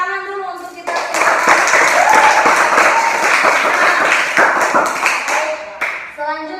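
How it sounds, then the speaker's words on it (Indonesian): A class bursts into applause, with clapping rising sharply after a short spoken line and fading as a voice resumes at the end. "Tepuk tangan dulu untuk kita semua."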